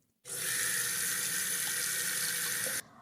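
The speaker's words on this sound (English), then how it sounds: "The apartment's kitchen was small but beautiful, with a big sink," Tap water pours steadily into a big kitchen sink in a small apartment kitchen, a continuous loud hiss that starts abruptly, runs evenly for under three seconds and cuts off, with no talk.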